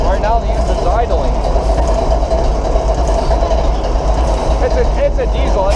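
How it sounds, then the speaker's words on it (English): A diesel locomotive engine idles up close at a railroad days event, a loud steady low rumble with a voice speaking over it. "Right now the engine's idling."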